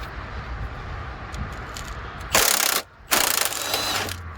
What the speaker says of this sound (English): let's just walk that bolt out of here